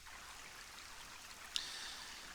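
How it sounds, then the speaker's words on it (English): Water trickling and pouring as water skins are refilled at a plaza fountain in Quest for Glory 2, a faint steady stream with a small splash near the end. "refill our water skins"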